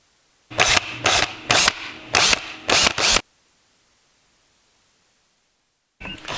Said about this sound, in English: Use a 7mm socket to remove those bolts.